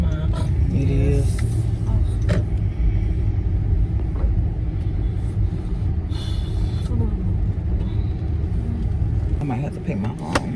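An automatic car wash runs with a constant loud rumble and whooshing water and brush noise, heard from inside a car, with people talking over it throughout.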